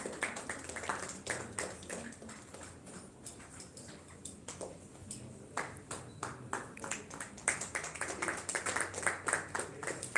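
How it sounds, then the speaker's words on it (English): Audience applause at an award ceremony of the 10th Indian Cine Film Festival 2022, steady scattered hand claps that keep going for about ten seconds with a few sharper nearby claps, no talk over it. "Give him a round of applause."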